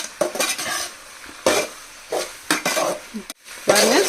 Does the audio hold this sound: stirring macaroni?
yes